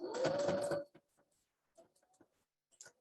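A sewing machine stitches across fabric in one steady, loud burst lasting under a second, then stops, leaving only faint small clicks and handling noises.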